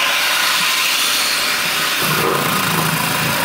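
An electric vegetable chopper runs loudly and steadily as it cuts onions and chilies, a continuous motor whir with a slight shift in tone midway through.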